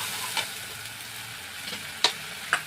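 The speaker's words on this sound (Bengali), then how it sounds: "জল দিয়ে দিচ্ছি, জলটা দিলে কি মশলাটা না পুড়ে যাবে না" Spice masala frying with water just added sizzles steadily in a pan, punctuated by a few sharp clinks of a stirring spoon against the pan, close up with no talking.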